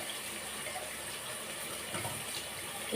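Tap water gushes steadily into a kitchen mixer-grinder jar as it is rinsed while fish curry is being cooked, a continuous close rushing splash with no talk.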